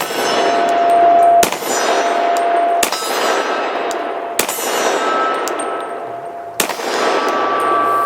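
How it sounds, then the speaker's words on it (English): A pistol fired several times at a soft drink can outdoors: four loud, sharp reports spaced a second or more apart, each ringing with a metallic clang as it fades. "I'll shoot this little soft drink sitting there if I can."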